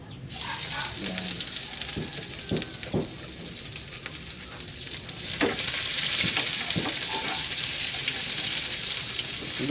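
Onions for pinakbet sizzle steadily in a hot pan, a continuous broadband fry hiss that swells louder partway through, with a few short stirring scrapes and clinks and no talking.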